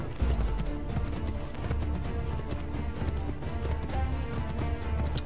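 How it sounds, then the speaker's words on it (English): Horse galloping in the video game Assassin's Creed 3, with steady clip-clop hoofbeats running continuously under a dense, busy game soundscape. "Well, I'm on a horse,"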